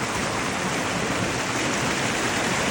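Continuous broadband rush of cold mountain water pouring down a small cascade in the Apennines, Tuscany, steady and close, with no other sounds.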